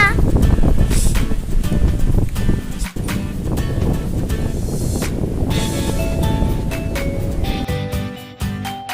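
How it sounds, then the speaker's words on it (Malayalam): Cold wind blows steadily at the seashore, a loud, continuous rush of broadband wind noise with waves likely mixed in, lasting the whole stretch with no pauses. "എന്തൊരു തണുത്ത കാറ്റാ!"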